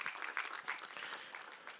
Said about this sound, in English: Can we again give a resounding applause to the Commissioner of Youth?